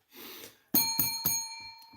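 A metallic bell gives three bright, ringing strikes in quick succession, each with a lingering tone, preceded by a soft breathy rustle.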